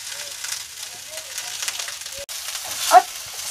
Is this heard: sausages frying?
yes